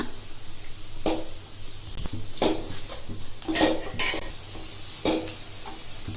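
A utensil stirs and scrapes chopped green chillies and onions in a pan in irregular strokes over a soft, steady sizzle, with no talking.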